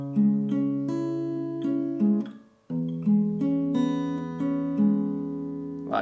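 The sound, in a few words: guitar plucking an interlude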